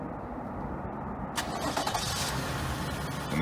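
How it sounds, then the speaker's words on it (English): A 2014-2019 Toyota Highlander engine cranks and fires up by remote start after a quiet moment, then settles into a steady idle nearby. "And the car will start."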